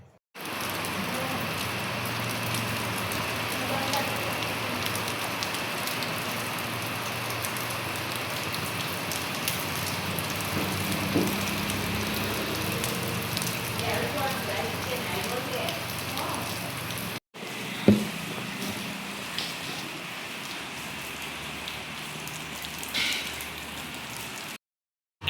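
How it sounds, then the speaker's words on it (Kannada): Heavy rain pours down steadily in a village, a dense, loud roar of drops on surfaces that breaks off briefly midway and then resumes just as hard. "ನೋಡಿ ಮಳೆ ಜೋರಾಯಿತು."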